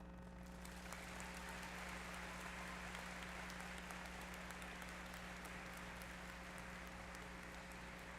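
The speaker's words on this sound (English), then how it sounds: "Please give Corey another round of applause." Convocation audience at Clarkson University applauding a speaker, a faint, distant and steady sheet of clapping over a constant low electrical hum, sustained for several seconds with no talk.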